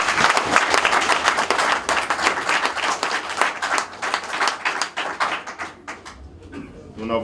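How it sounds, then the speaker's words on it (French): Loud, dense applause from the crowd at a political party membership event, many hands clapping vigorously and close, then thinning and fading toward the end, where a voice briefly begins. "que je vous prie d'applaudir très fort."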